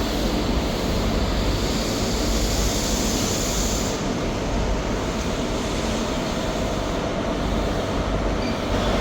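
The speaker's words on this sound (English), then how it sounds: "Departing out now is the 1303 Scotrail service from Glasgow Queen Street to Aberdeen." A ScotRail train, the 13:03 Glasgow Queen Street to Aberdeen service with locomotive 43130, pulls out of Dundee station with a loud, continuous rumble and rolling wheel noise close by, steady throughout.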